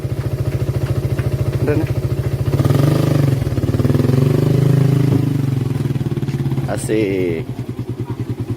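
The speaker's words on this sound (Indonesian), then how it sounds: "Nah, mesinnya ini manual." Small manual-engine ferry boat crossing the Kalimalang canal in Jakarta, its single-cylinder motor chugging in a close, steady rapid pulse that briefly swells louder mid-clip, with a few short spoken remarks over it.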